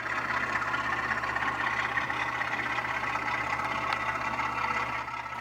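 Steady diesel engine drone from an HO scale model British Rail Rat locomotive, heard close up and alone, holding an even idling hum with a lower, thicker pulse under it for the whole stretch.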